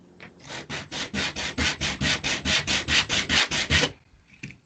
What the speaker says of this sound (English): So I needed to sand my edges just a little bit.